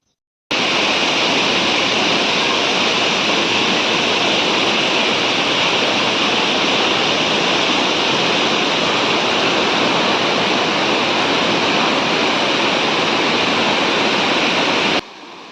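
A rain-fed waterfall near Harisankar Temple in the Gandhamardan hills of Balangir gives a loud, steady roar of rushing water. The roar starts and stops abruptly, with no voices.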